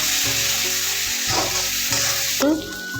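Fish curry masala with Kerala chilli powder sizzles and is stirred in a pan, loud close frying crackle with scraping spoon strokes over a steady hiss.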